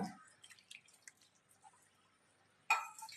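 Water pours and splashes into a pot of fish curry, with scattered drips before a louder, brief gush near the end.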